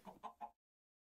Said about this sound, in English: added a mod called the resource chicken mod. And these are some of the chickens.